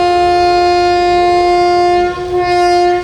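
A train at Aryankavu station in Kollam, Kerala, sounds a long, loud, steady horn blast that holds for about three seconds up close over a low rumble.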